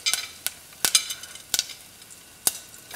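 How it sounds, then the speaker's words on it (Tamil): Mustard seeds and asafoetida in hot oil over a low flame, a tempering for curd semiya, give off a handful of sharp, scattered crackling pops at irregular intervals, with faint hiss in between. "கடுகு இப்போ வெடித்ததும் கொஞ்சம் பெருங்காயத்தூள் போட்டுக்கலாம்"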